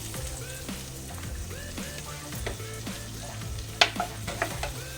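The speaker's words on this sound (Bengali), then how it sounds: "এটা দিয়ে আমি 2 মিনিটের মতো নাড়াচাড়া করে নেব" Poppy seed, char magaz and cashew paste being stirred in a pan for cottage cheese curry, giving a steady soft sizzle with scraping strokes and a few sharp clinks of the spoon against the pan near the end.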